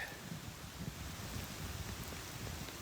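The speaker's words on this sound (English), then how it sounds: "it is finally raining." Steady, soft rain hissing outdoors with a faint rustle of wind, no voices.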